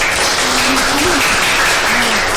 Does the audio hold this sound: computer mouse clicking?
no